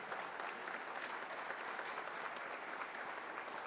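An audience at an outdoor government ceremony handing over property titles for schools claps steadily and loudly, a dense, continuous applause with no break.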